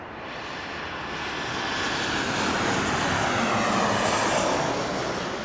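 Airliner engines roar steadily near Las Vegas Airport during a landing or takeoff, a broad rushing drone that swells gradually and holds loud throughout, with no voices.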